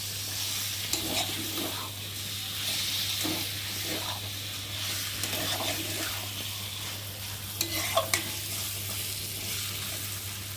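Masala and chicken sizzle in a frying pan while a spoon stirs and scrapes through it in irregular strokes, under a constant low hum and hiss of frying.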